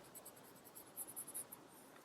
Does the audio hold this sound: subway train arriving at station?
no